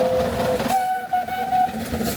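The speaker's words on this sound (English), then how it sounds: "their trains are non-stop going up and down" Heritage railway train on a Welsh mountain line, loud and close, with a sustained horn or whistle tone over rumbling wheels and carriage noise.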